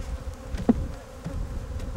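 Honey bees being shaken out of a hive, a dense continuous buzzing hum with a sharp thump of the shake partway through, loud and close.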